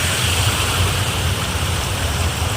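Water pours over a village dam in a dense, steady rushing roar, close and continuous, with no voices over it.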